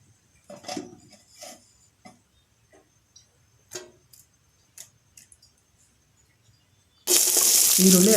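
Onion, green chili and curry leaves hit hot oil for a tempering, a loud steady sizzle that starts abruptly near the end after a stretch of faint clicks and light kitchen taps.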